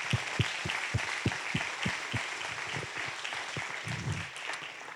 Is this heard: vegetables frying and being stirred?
no